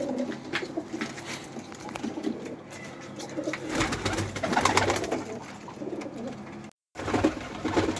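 A pigeon coos repeatedly while being held in someone's hands, the soft calls close and steady over handling noise and faint background sounds.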